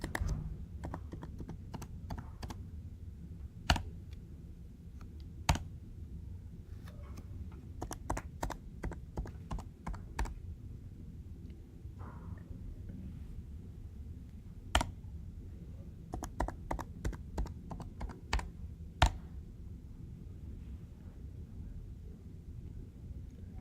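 Keys on a computer keyboard tapped to enter a MySQL password during a software install: sparse, crisp clicks in short bursts and isolated single strokes, close and fairly quiet against a soft low background hum.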